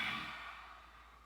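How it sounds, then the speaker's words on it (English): A single forceful lion's breath exhale in a yoga class, a breathy, open-mouthed whoosh that starts strong and trails off quietly over about a second. "I want you to go into a lion's breath"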